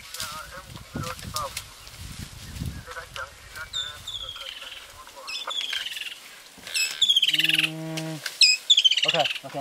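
Bird calls ring out several times, sharp chirps and a honking cry near the end, with people talking intermittently in the background.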